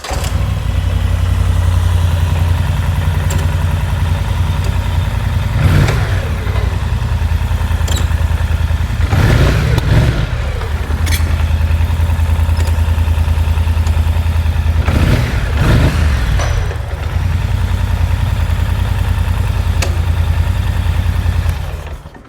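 A cheap four-wheeler ATV with a running fault idles loudly and steadily up close, its engine rumbling low and continuous, with a few surges where it revs and sputters before settling back; no one speaks.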